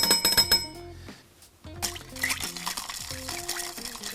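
Sweet vermouth poured into a glass while mixing a Negroni cocktail, a soft trickling pour with bright clinks of glassware at the start, fairly quiet and close, no speech.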